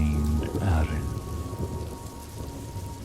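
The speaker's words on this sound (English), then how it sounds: "As the gentle patter of rain drifts in the background" Gentle rain patters softly and steadily on a surface, a faint continuous wash with a low rumble early on.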